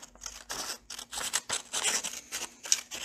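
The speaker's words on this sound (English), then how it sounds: "I'm going to cut myself some long strips of paper." Scissors snip through long strips of paper for paper sculpture, a steady run of crisp, close cutting strokes repeating about every third of a second with no voices.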